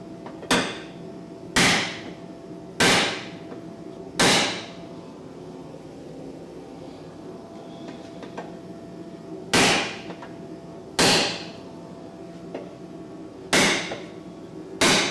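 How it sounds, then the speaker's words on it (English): Hammer blows drive a chisel into damaged Nissan 370Z body metal, eight sharp metallic strikes spaced a second or more apart with a pause midway, close and loud against a quiet workshop. "the chisel is going to bite into the metal and it won't slip"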